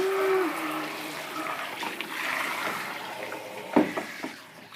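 Bath water sloshes in a tub as a baby is bathed, with a soft swirl of water, then a couple of sharper splashes near the end and faint voices in the background.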